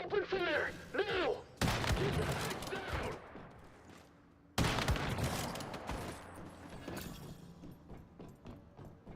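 Bursts of rapid gunfire from the video game Once Human, loud and dense, in two long volleys with a pause between, set against game sound and a brief spoken voice at the start.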